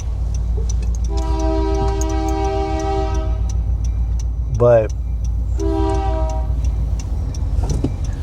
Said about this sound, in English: you hear that? You hear the train now?